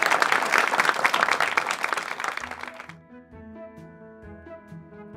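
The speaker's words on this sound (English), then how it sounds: "give ourselves a big round of applause" Audience applause at a poetry recitation event, dense clapping for about three seconds before it cuts off and music with sustained tones takes over.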